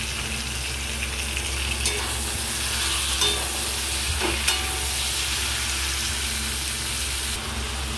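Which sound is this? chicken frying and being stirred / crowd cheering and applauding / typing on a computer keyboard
chicken frying and being stirred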